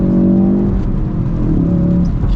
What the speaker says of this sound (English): my favorite thing with this car is just to go through the gears. Like, I literally upshift just so that I can downshift.